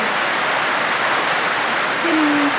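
Heavy rain pours steadily onto a house roof in a rural province, a dense, loud, unbroken wash of noise; a brief tonal hum enters near the end.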